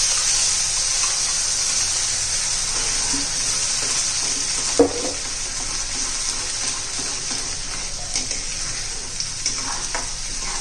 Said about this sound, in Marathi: तेल गरम झालं त्यात आपण आता हे वाटण घालून घेऊया